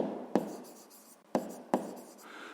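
A pen writes out a sixth-grade maths exercise solution on paper, a soft continuous scratching broken by three sharp taps, close and quiet with no talk.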